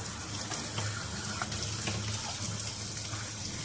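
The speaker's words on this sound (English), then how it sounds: "I'm going to rinse my green beans" Tap water runs steadily into a kitchen sink while fresh green beans are rinsed under it, giving a close, continuous splashing rush with small shifts as the beans move in the stream.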